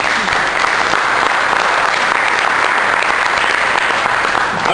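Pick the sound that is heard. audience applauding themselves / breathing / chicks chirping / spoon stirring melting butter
audience applauding themselves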